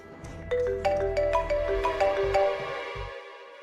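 A mobile phone ringtone plays an unanswered call in a TV drama scene, a bright melodic tune of repeated ringing notes over a low hum, loud and close, ending abruptly.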